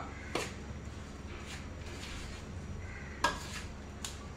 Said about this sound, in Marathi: आता हे आपण असं झाऱ्याने मिक्स करून घेऊया, कारण गूळ गरम आहे, लगेच हात घालू नका।